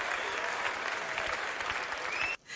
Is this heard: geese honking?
no